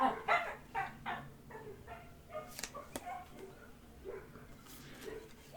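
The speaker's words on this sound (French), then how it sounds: "il y a un petit chien qui aboie, mais je ne sais pas d'où il vient" A small dog yaps in a quick run of high, sharp barks at the start, then gives a few scattered, fainter yips, somewhat distant, with no voices over it.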